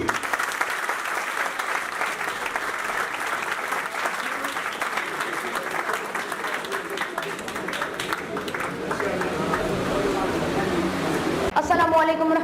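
A university hall audience at the University of Gujrat claps steadily to welcome speaker Hammad Safi onto the stage, a dense sustained wash of applause that swells slightly toward the end, with a voice over it.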